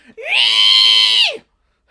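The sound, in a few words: person imitating screeching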